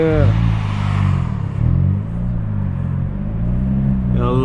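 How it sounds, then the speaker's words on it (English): A 2019 Hyundai Veloster N exhaust drones low and steady as the car accelerates, with a rising engine note, a brief dip mid-way and a renewed pull near the end; a voice is faintly audible under it. "Wonderful sounding exhaust."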